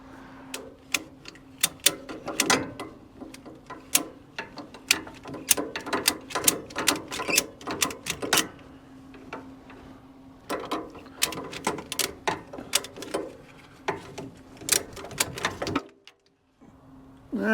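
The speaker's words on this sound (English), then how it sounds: "use a ratchet strap to ratchet it closed till I can slip it on there" A ratchet strap wrapped around a part is ratcheted closed during soybean harvest repairs, giving repeated sharp clicking bursts in quick rhythmic runs, close and fairly loud, with a brief pause near the end and no talking.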